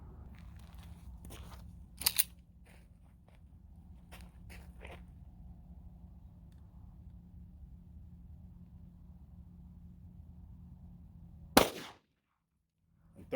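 A 9mm Winchester Defender 124 grain +P round fires from a GX4 pistol: one sharp, loud, close shot near the end, after a long stretch of low steady hum and a few faint earlier clicks.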